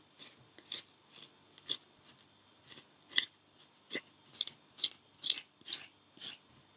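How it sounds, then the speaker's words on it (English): A spoon scraping gunky bits from inside a hollowed pumpkin, a run of about a dozen short, crisp rasping strokes in an uneven rhythm, close and fairly quiet. "you can use your spoon or your scoop just to scrape those off"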